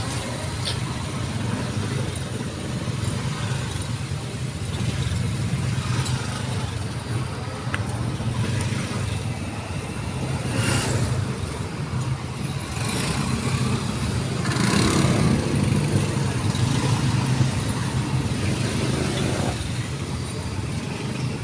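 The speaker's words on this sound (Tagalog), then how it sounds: "Kaya grabe ang traffic ngayon dito." Heavy road traffic with cars and engines idling and creeping along. It forms a steady, dense low rumble throughout, with occasional nearer vehicle surges.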